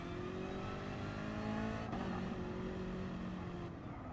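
Race car engines on the Interlagos track, a steady droning roar with a slight pitch shift as a car passes, heard at moderate distance and continuous, with no voices.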